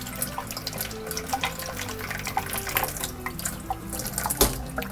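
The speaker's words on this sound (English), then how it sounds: "I'll just rinse it off again. Plus I want to get my hands unsticky." Tap water runs steadily into a sink while a jar lid is rinsed under it, a continuous close splashing with small clatters and drips, no voices.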